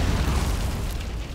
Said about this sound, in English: We have a random explosion.